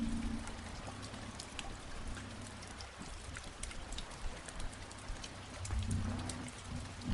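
Steady heavy rain patters and hisses during a motorcycle ride, a continuous dense wash of drops with low rumbling underneath and no voices.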